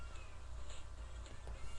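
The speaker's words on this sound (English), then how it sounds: "It's me and my cat." Smokey, a pet cat, gives a few faint, short meows over a low, steady background hum indoors.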